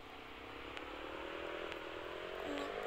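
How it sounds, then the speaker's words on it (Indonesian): Motorcycle engine in an online video game, a steady droning motor hum held at even loudness with faint clicks, no voices over it. "Aku naik ini motor."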